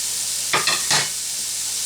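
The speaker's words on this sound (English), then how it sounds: "I'm gonna keep stirring it back and forth, just to make sure nothing burns or sticks." A spoon scrapes and stirs almost American goulash in a frying pan, three quick strokes over a faint background sizzle.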